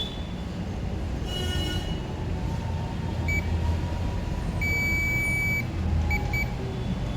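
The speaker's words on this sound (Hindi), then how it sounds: "तो ये बीप दे रहा है। इसका मतलब ये कैपेसिटर शॉर्ट है।" A multimeter set to continuity beeps while its probes touch a shorted capacitor from a dead phone: a short tone, then a steady beep about a second long, then a couple of brief chirps, all over constant background noise.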